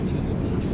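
Steady low cabin roar of an airliner in flight from Doha to Dallas, a loud, even broadband rumble heard from a middle seat for under a second, with no distinct voices.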